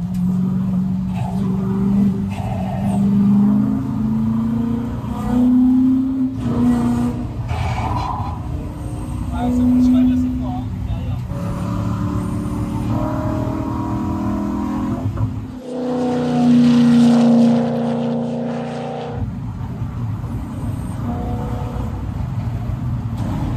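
A Ford GT40 race car lapping a track during setup by Michelin engineering. Its engine drones and revs loud and close for the whole stretch, pitch climbing and falling through gear changes, with one sharp surge near the end.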